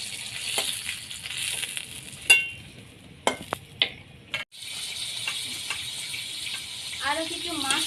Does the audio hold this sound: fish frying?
yes